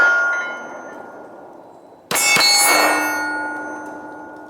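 A Smith & Wesson SW9VE pistol with an Apex Flat Face trigger kit fires a double tap at steel, two sharp shots in quick succession with bright ringing clangs that fade slowly.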